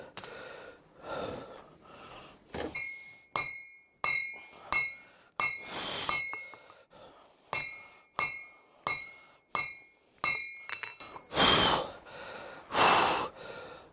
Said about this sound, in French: Et donc, ouais, je suis un peu essoufflé.